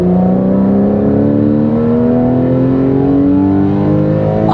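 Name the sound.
Porsche 991 Carrera flat-six engine revving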